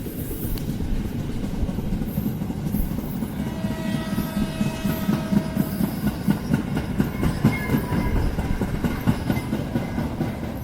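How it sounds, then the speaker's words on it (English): A rumbling train travelling through jungle and along the coast in Sri Lanka, heard up close and loud as a continuous rolling rumble with a rhythmic clickety-clack of wheels on rails, with no voices. "that little rumbling train took me through the jungle"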